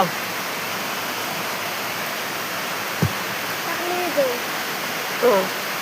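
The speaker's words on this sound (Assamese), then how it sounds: "বৰষুণ দি আছে" Rain falling as a steady, even hiss that fills the air throughout, with a soft thump and faint scattered voices breaking through now and then.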